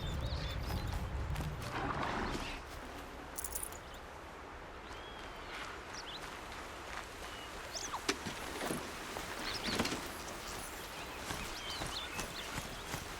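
Steady clip-clopping of horse hooves at a walking pace in the video game Horizon Zero Dawn, fairly close, over a constant low rumble and some scattered ambient noise.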